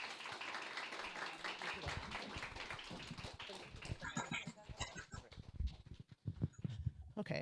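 An audience at a Meet the Candidates event claps for two presidential candidates, a spread of hand claps that thickens into brief, uneven applause after a stretch of murmuring voices.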